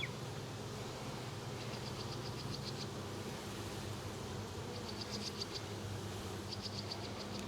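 Honeybee swarm being swept off a feather during a swarm catch, giving a steady low buzzing hum with faint intermittent higher whines, fairly quiet and with no voices.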